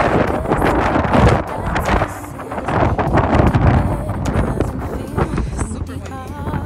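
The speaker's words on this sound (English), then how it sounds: "It's kind of windy" Gusty wind buffets the microphone in loud, uneven rumbles, with brief bursts of distant chatter mixed into the blustery noise.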